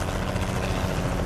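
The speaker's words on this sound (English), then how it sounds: "And of course the helicopter fly right over my head." In the American Truck Simulator driving game, a helicopter passes low overhead, its steady, dense rotor roar filling the air at close range without any voices.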